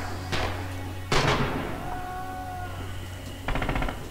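MG42 machine gun in Red Orchestra 2, a WWII shooter game, with a few sharp loud shots and a short rapid burst near the end over low background hum.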